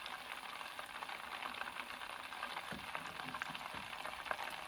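Butter simmering in a pan as its milk solids cook off, giving a steady, close bubbling sizzle with scattered small pops and crackles throughout.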